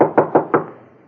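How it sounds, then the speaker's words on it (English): Three sharp knocks on a cabin door at an even pace, close and fairly loud, each ringing briefly before fading into a quiet room. "I'd better knock anyway."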